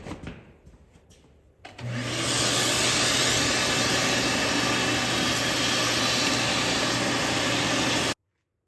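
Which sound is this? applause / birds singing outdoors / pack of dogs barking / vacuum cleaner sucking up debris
vacuum cleaner sucking up debris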